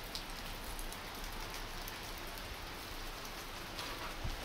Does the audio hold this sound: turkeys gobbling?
no